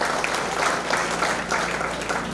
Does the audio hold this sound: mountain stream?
no